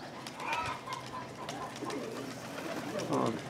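Pigeons coo in a village loft, a low continuous burbling close by while a person talks over it.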